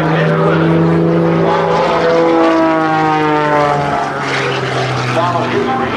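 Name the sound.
Pitts S2C fabric-covered aerobatic biplane flying at airshow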